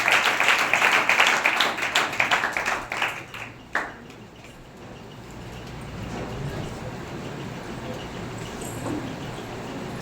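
A church congregation claps to welcome arriving guests, with brisk, dense applause that fades out after a few seconds, leaving a quiet room ambience with faint murmurs.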